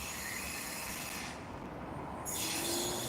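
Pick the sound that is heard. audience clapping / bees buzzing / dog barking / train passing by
train passing by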